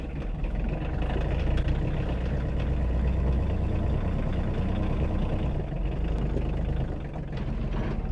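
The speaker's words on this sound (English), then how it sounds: "So we're gonna get the tractor and knock it loose." A tractor engine runs steadily close by at a farm sawmill in freezing winter weather, a constant low rumble that carries on alone with no talk.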